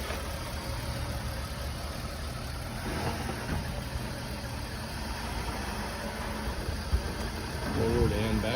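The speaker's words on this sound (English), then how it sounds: "Engine sounds pretty good as well. And you can hear it running." A car at a city vehicle auction runs outdoors, its engine idling as a low, steady rumble with a slight knock. Faint voices and background noise can be heard around it.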